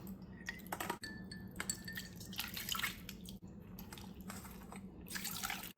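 Water splashes and trickles in short bursts onto amaranth grain in a strainer, with faint dripping and light clinks between pours.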